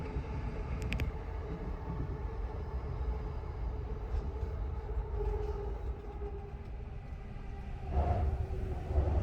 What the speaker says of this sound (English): The Chuo Line and the Ginza Subway Line.